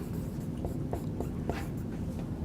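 Marker or chalk strokes on a classroom board during a calculus lecture on limits, a series of short scratchy taps and squeaks repeating at irregular intervals over steady room hum, fairly faint and with no talking.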